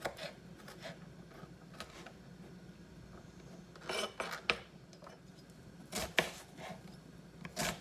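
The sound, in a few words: knife chopping garlic and onions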